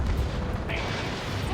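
A target-destroyed explosion in the combat flight game Ace Combat 7 booms through dense, continuous game noise, with a voice speaking over it for the whole stretch.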